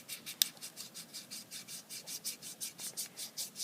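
A ball tool rubs rhythmically against a soft sheet to shape a miniature baking pan, producing steady, evenly spaced close scraping strokes with no talking.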